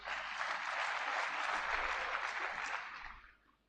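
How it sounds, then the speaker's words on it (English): Audience applause at a convocation ceremony for graduating cadets, a dense, steady burst of clapping from a large crowd that holds evenly for about three seconds before tapering off. "Once again, clap for yourself."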